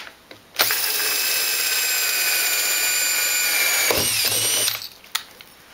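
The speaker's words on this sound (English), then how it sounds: "then put your drill in reverse" A power drill running a hole saw in reverse whines at a steady high pitch for about four seconds, dips briefly, then spins on before winding down and stopping.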